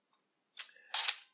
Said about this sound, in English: So even though the shutter doesn't sound that great.